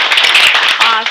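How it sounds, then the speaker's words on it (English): Brief burst of dense audience clapping at a casual lunch-and-learn talk on social media, loud and steady for about a second. "again, a great round of applause"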